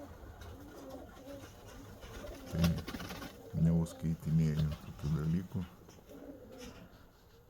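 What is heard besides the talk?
pigeons cooing and flying at dusk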